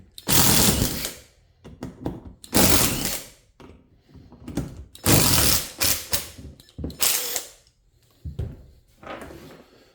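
Cutting the camshaft gear of a VW engine during a half-VW build: loud, harsh bursts of machining noise repeat about every two seconds, each separated by brief quieter pauses, with no talking.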